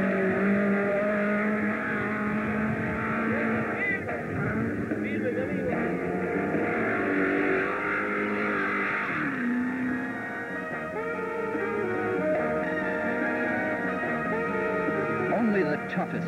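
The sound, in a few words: Datsun rally car racing on WRC special stage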